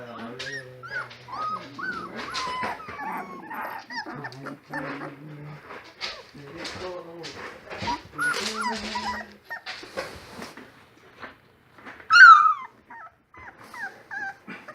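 Three-week-old Great Pyrenees puppies whimper and yip close by, a busy overlapping chorus of high whines and squeaks, with one louder sharp yelp near the end.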